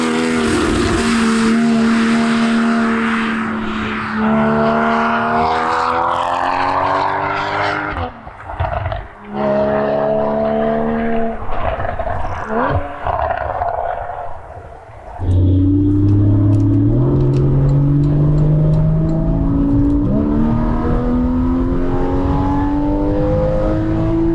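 Porsche 981 Boxster GTS engine revving loudly and close, climbing through several rising pitch sweeps with brief drops between gears, then settling into a deep, steady rumble that builds again.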